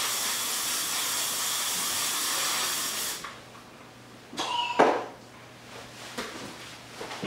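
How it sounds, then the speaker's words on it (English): Axe Dark Temptation body spray hisses from an aerosol can in one long continuous burst lasting about three seconds, followed by a couple of brief clicks and short puffs. "this right here is Axe Daily Fragrance Dark Temptation Body Spray"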